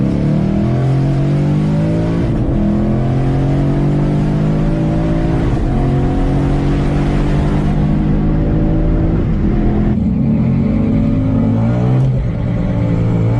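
A Ford S550 Mustang with an MT82 manual gearbox is driven hard, its engine droning loud and close through repeated rising revs with quick dips at each fast gear change.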